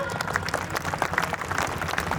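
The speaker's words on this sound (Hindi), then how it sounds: "तालियों की आवाज ऐसी हो कि लाइटर गूंज उठे।" A crowd at the Shakti Swarupa Samagam 2024 event in Raigarh gives loud, sustained applause in welcome, dense clapping pulsing steadily with voices mixed in.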